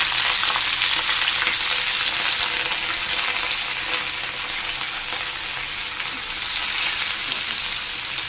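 Garlic and other ingredients fry in a pan, giving a loud, dense, unbroken sizzle that holds steady throughout with no voices.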